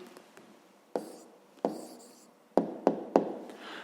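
Pen marking answers on paper while solving a fifth-grade maths exercise, heard as six sharp, separate taps and scratches spaced irregularly over quiet room tone.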